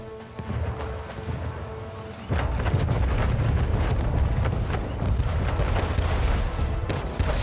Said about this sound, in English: All right, that cannon tower is going down.